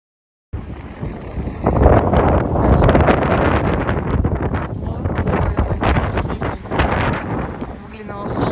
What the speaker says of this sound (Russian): сейчас вообще очень сильная непогода, ветер, волны